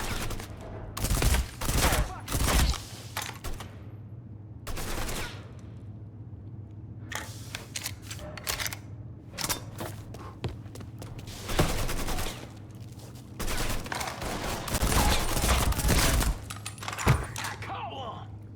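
Gunfire in the video game Mafia III comes in repeated loud bursts and rapid volleys, with quieter gaps between, mixed with in-game voices shouting.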